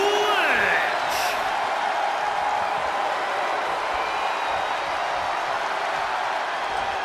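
A capacity arena crowd at a WWE SmackDown video-game match cheers in a steady, distant roar, with a short sharp burst at the start and a faint synthetic hum beneath.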